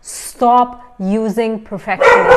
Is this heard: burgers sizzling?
no